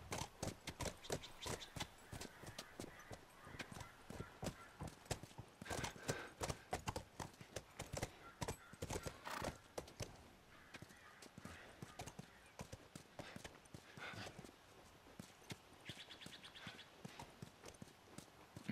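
Horse hooves clip-clop at a steady riding pace in The Last of Us, a quick, even run of hoofbeats that carries on for the whole stretch, with a brief whinny and no clear voice over it.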